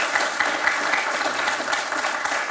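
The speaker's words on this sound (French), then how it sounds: "Vous avez raison de les applaudir" A studio audience at the French quiz show Questions pour un champion applauds the two contestants in a face-to-face round, a dense, steady burst of clapping filling the room with no talk.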